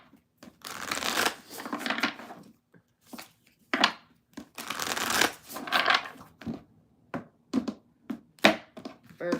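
Cards being shuffled up close: several long riffling bursts followed by quicker, shorter flicks and taps with small pauses between.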